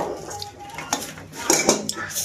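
Bowls clattering against one another and against metal cutlery as they are handled in a home kitchen, with close, sharp clinks and knocks in quick irregular succession.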